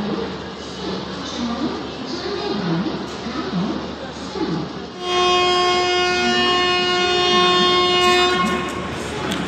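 An Uday Express passenger train pulls out of a station on the Bengaluru–Coimbatore route, with carriage rumble and a loud, sustained horn blast joining halfway through.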